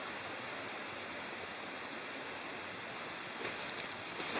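The Bald River rushes steadily just below a campsite in the Upper Bald River Wilderness, a constant, fairly faint broadband flow of water with no break.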